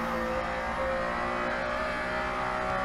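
A Porsche Carrera RSR 3.0 race car in Assetto Corsa on the Nurburgring, its engine droning steadily under load with a strong, continuous tonal roar and no breaks.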